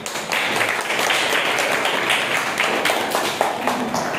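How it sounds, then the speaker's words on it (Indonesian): A class applauds a student group after a robot project presentation, scattered mid-level clapping in a room running for several seconds with faint voices around it. "kasih tepuk tangan untuk kelompok 1"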